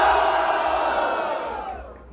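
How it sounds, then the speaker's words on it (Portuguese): Crowd at a street rap battle cheering and shouting in a loud, dense roar that gradually fades out, with no talk over it. "Mão e barulho para AJ!"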